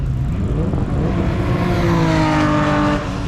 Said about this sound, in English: That Lotus just sounds naughty.